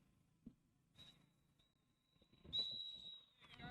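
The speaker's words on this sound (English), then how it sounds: "As Murty Ryan blows the half-time whistle." A referee's whistle at a Tipperary ladies junior football match, blown for half-time: a thin sustained tone sounding briefly, then longer and louder near the end, over faint crowd noise at a distance.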